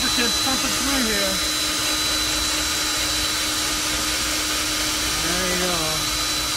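BDS magnetic drill boring through the aluminium skin of a Boeing 747 airliner, a loud steady motor whine and grinding hum running unbroken throughout, with a voice talking faintly over it.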